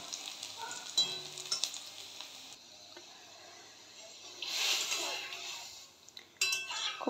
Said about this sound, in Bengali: আমি এবার এটার মধ্যে ডালটা দিয়ে দেব।